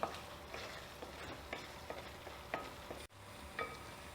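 Neypayasam being stirred in a pan after sugar is added, giving soft repeated scraping strokes at a steady rhythm, fairly faint, with no talking.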